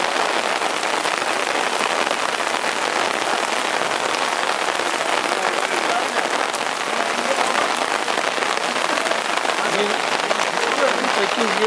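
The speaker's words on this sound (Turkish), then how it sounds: "Yağmura bak." Heavy rain pouring down outside the Muradiye Mosque in Kirkuk, a loud, constant hiss of drops hitting hard surfaces with no letup.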